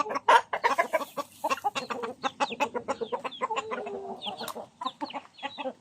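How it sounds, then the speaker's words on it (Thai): A flock of farm chickens of the Sai Koi breed cluck and cackle closely and continuously, a busy overlapping chatter of short calls with a few drawn-out squawks. "ไก่สายก๋อยหลายตัวอยู่ครับ"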